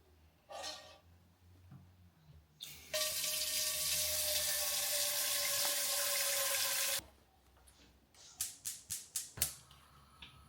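Tap water gushes steadily into a pot for several seconds, loud and close, followed by a few sharp clanks and taps.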